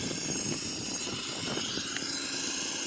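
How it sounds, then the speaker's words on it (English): Engines of a Boeing 737-800 in a flight simulator game run at start-up: a steady, loud roaring whine with a constant broadband hiss and no pauses. "So this for the Boeing 737-800 the engine start demonstration."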